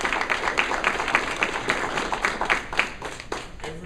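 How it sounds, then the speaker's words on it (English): A crowd claps for children at a youth appreciation and recognition ceremony held by the Radcliff Optimist Club, giving steady moderate applause with no voices rising above it. "Let's give all of these kids a round of applause."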